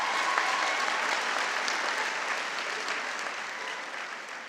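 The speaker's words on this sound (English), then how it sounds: "Can we give them a round of applause?" An audience applauds the university choir at an autumn graduation ceremony, a steady, fairly distant wash of clapping that holds evenly for several seconds and slowly fades toward the end.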